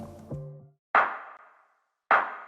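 A tonal low thump, then two sharp, bright clap hits about a second apart, each with a short reverberant tail, heard alone.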